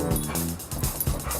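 An excited dog greeting someone, giving short high whimpers and yips in quick bursts, close by and fairly loud over faint background noise.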